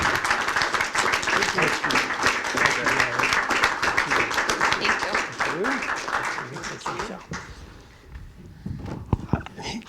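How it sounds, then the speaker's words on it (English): An audience at a school board meeting applauds in recognition of a community partner, clapping that is loud at first and then dies away, followed by a few scattered claps while people talk. "Let's give them a wonderful round of applause for their commitment"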